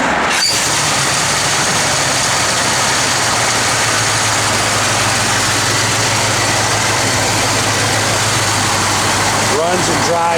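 A 1971 Chevrolet Chevelle SS engine idles steadily with a deep, even rumble that holds for the whole stretch, loud and close, with only a brief knock at the start and end.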